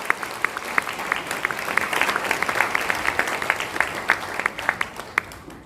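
A church congregation at an ordination and retirement service applauds, with many hands clapping in a crisp, moderately loud patter of distinct claps that fades slightly at the close.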